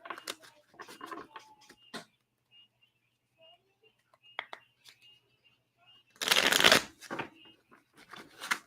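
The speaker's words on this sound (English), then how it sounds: "This is the mini deck, so I'm able to shuffle these better." A mini tarot card deck is shuffled nearby in a brief, loud riffling burst, preceded and followed by a person talking and some light handling clicks.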